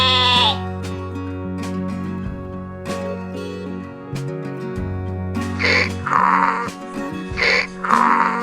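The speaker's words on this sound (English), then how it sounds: "Sheep bleat." Sheep bleating loudly and close, several wavering cries in a row laid over steady background music, with no talking.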